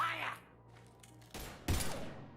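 Gunfire in Mass Effect Legendary Edition bursts out as two quick, heavy blasts after a faint voice and a quiet stretch, the second shot louder and trailing into a short rumble.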